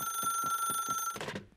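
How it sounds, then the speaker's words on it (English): An old-fashioned telephone bell rings in a fast repeating trill over a steady tone, loud and close, then stops abruptly with a brief clatter. "Oh, it's the phone."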